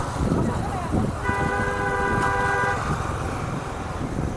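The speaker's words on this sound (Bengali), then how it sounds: "হর্ন দিচ্ছে কেন" A vehicle horn sounds one sustained honk of about a second and a half amid street traffic noise, with people talking nearby.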